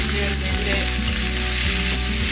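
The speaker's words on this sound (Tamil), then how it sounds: "இதில் ஒரு 2 காஞ்ச மிளகாய் வச்சுருக்கு, அதையும் போடுவேன். வெங்காயம் போட போகிறேன்." Oil with mustard seeds, fennel and dried red chillies fries loudly and close, a dense continuous sizzle with a steady low hum underneath, no talking.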